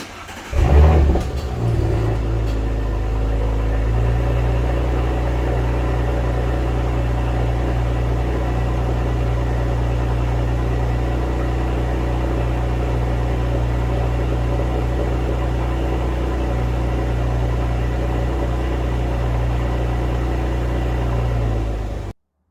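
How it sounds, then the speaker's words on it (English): A 2022 Audi S5 Sportback with a modified exhaust idles close by after a cold start, holding a steady, deep bass-heavy drone for the whole stretch with no talking. "even on idle, after it kind of levels off from the cold start, it really sounds nice. You can actually hear the bass tone on there."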